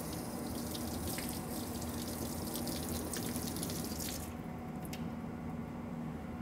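Tap water splashes steadily over a photo intaglio printing plate during rinsing, a continuous hissing spray that cuts off about two-thirds through, leaving a quieter sink background with a last splash.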